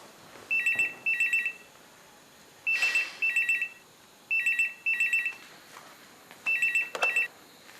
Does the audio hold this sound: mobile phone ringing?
yes